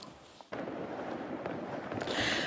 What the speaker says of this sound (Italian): Notte di botti e di paura in Sicilia